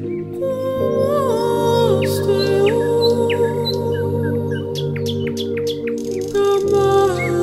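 Birds calling and chirping around a misty monsoon hill village at Lava, several clear tweets and whistles over a steady low background hum.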